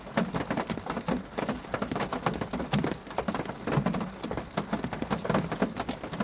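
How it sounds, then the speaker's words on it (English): Rain beats on a car windshield at night near a graveyard, a dense, steady spatter of drops striking the glass close by, with scattered sharper hits and no talking. "the rain on the windshield sounds different now"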